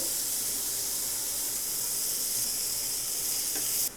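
Peas and carrots sizzle steadily in a little oil in a pan, a bright continuous hiss that holds even and close before dropping off abruptly at the end.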